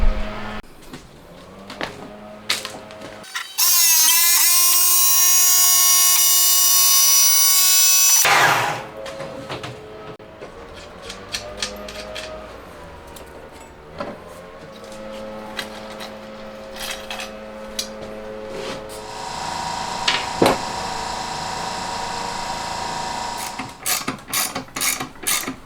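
Hand tools work on a Honda Monkey motorcycle as its engine is being removed, with clicking ratchets, a long loud whine of a powered tool, and scattered clanks and taps in a quiet workshop.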